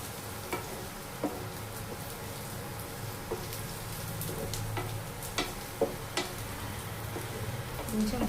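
Green chilies frying in a pan for tomato curry, giving a steady soft sizzle with occasional sharper crackles and stirring clicks throughout, close and moderate in level.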